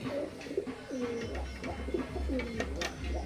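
Imported teddy pigeons give a few soft, rolling coos, close but quiet, over a low background rumble.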